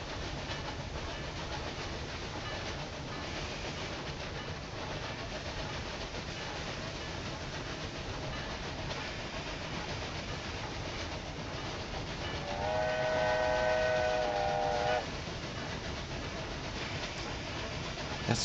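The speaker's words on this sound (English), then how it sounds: "That's probably our mail train." Mail train running in the Railway Empire 2 video game, a steady rolling rumble throughout with a sustained whistle blast rising over it for a couple of seconds near the end.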